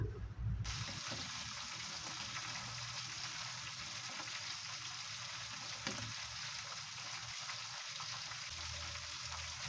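Tom yam soup with prawns bubbles at a steady boil in a pot, a continuous soft hiss and gurgle heard close and fairly quiet, with no talking.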